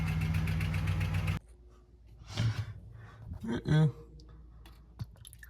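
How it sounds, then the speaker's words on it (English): An old Dodge Prospector engine with a bad lifter tick idles loudly for about a second before cutting out. Breathy voice sounds and soft clicks follow in a quieter space. "She has a bad lifter tick."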